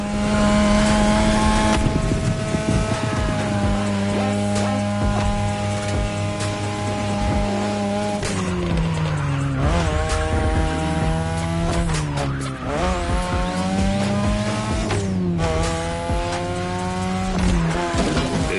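A 2002 third-generation Mazda RX-7 with a rotary engine races in a video game: a loud, continuous high-revving engine whine rises and drops with gear shifts, with tire squeal and skidding throughout and no talk.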